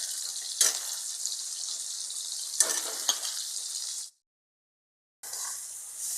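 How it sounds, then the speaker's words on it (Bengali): Ground turmeric, Kashmiri chili, coriander and cumin fry for a homestyle chicken and potato curry, sizzling steadily with a few sharp stirring scrapes before a brief silent break, then the sizzle returns. "মশলা ভাজা ভাজা হয়ে গেছে"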